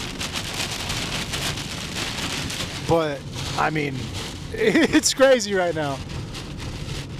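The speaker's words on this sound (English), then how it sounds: "I'm sure you can hear the rain." Steady heavy rain pours down throughout while someone talks over it, during a drive through a tornado.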